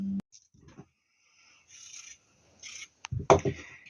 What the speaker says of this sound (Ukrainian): І нарізаємо такими невеличкими кубочками